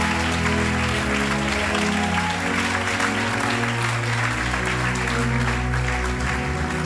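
A church congregation applauds Jesus during a sermon, with dense continuous clapping from a large crowd that stays steady throughout over sustained musical tones.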